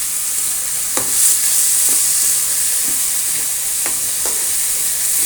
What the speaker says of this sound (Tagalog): Diretso gisa. Hindi na pinalambot yung munggo.